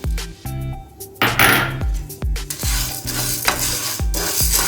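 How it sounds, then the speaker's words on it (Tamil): Black gram lentils roasting dry in a heated kadai, stirred with a utensil: repeated scraping and rattling strikes of the spoon against the pan at a steady rhythm, with a faint sizzle underneath, close and fairly loud. "கடாய் ஹீட் ஆனதுக்கப்புறம் நான் எடுத்து வச்சுருக்க இந்த கருப்பு உளுந்தை போட்டு நல்லா வறுக்க வேண்டியதான்"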